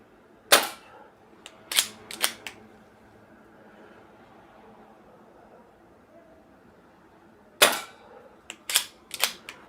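Single pistol shots fired one-handed at a 10-yard target crack sharply in two bursts: one, then a quick pair, then after a quiet pause another cluster of four, with a faint voice in between.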